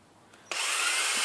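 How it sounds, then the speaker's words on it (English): A power drill with a 23/64 bit bores into a plastic gas cap for a Honda EU2200i generator; after a faint tick the motor snaps on abruptly and whines loudly and steadily, close up. "So I'm just going to drill this in."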